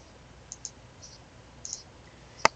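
Mouse clicks from drawing a polygonal lasso selection in Photoshop Elements, a few soft, faint clicks spaced apart and then one sharper, louder click near the end, with quiet room hiss between them.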